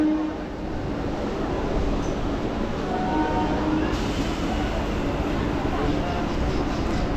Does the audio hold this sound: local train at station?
yes